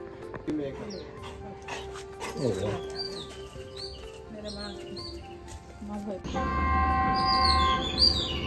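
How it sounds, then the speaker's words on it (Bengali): A dog barks in short bursts and whimpers with high, wavering whines, close by at a resort in Sri Lanka, while people talk nearby. "এই রিসোর্টে একটা যে কুকুর আছে"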